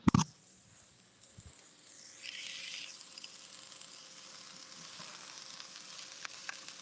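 Handful of mushrooms sizzling as they fry in a pot, a steady low hiss that swells briefly after a soft clatter at the start, continuing evenly with faint occasional clicks.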